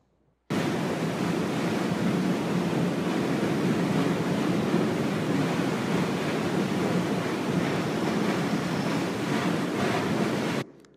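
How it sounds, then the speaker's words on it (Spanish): A waterfall inside a cave near Villa de Leyva, Colombia, pours as a dense, steady roar of rushing water that fills the space evenly for about ten seconds with no voices. "Ese sonido de una cueva y una cascada que hay en una cueva al lado de Villa de Leyva"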